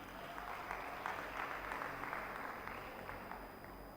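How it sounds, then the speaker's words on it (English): Steady applause from an audience at a live session event, a continuous dense patter of many hands clapping together, fairly even in loudness throughout with no speech over it. "please give her a round of applause"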